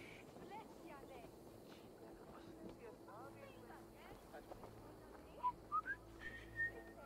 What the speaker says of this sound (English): Guy trying to whistle?